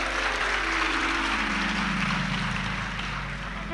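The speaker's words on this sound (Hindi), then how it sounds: "ये ताली बजाने से कुछ नहीं होगा।" An audience at a Hindu religious discourse, a Shiv Mahapuran katha, claps together in a dense, loud, sustained burst of applause that carries on steadily before tapering slightly at the end.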